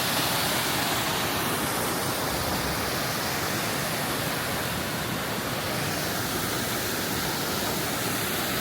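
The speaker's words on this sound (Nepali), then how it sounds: "यतापट्टि खोला छ" A mountain river in Langtang, Nepal, rushing steadily between hills, a dense and continuous close roar of water with no voices.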